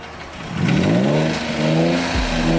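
A car engine revs hard while the car spins donuts in an open lot, rising from a low idle into a loud, sustained high-pitched whine that climbs and holds, close and continuous with no talk.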